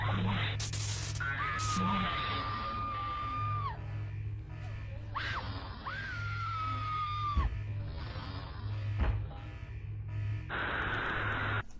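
A woman screams in pain in a frightening scene, with long sustained wails and shrieks rising and breaking over a loud, steady background hum, ending in gasping cries.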